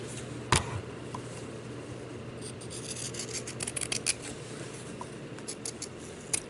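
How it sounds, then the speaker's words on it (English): Scissors snip around a small paper raccoon ornament, a sharp close cut at the start followed by quiet rubbing and intermittent crisp snipping bursts, soft and near. "I'm going to cut out the little raccoon"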